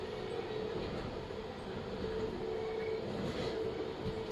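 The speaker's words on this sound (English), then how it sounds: "This is the Brisbane Airport train." A Brisbane Airport passenger train running between Albion and Eagle Junction, a steady loud rumble of wheels and carriage noise with a faint tonal hum, heard from inside throughout.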